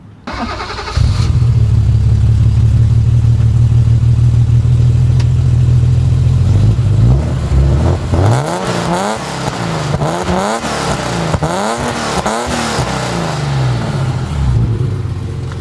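A European-spec first-generation BMW M6 with a higher-compression engine of about 286 horsepower starts and idles loudly, then is revved repeatedly in rising and falling sweeps, close and alone.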